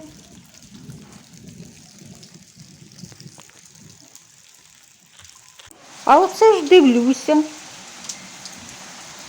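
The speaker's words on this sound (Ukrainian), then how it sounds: "Мабуть, дощ продовжується." Rain falls in a village in Poltava region, Ukraine, a steady soft hiss running for several seconds before a voice speaks briefly over it near the end.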